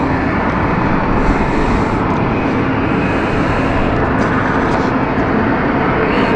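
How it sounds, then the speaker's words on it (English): Airliner engine noise at London City Airport, a loud, steady broadband roar filling the whole stretch without a break, no talk over it. "Oh, I love hearing that noise. Love it. Such a beautiful noise. Such a beautiful plane."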